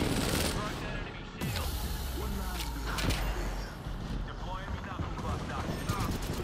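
Rapid bursts of gunfire in the video game Apex Legends, with sharp shots rising above game noise and a player's voice talking over the action.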